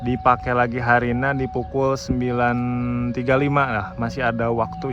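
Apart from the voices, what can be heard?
No distinct noise like a dog, phone or traffic.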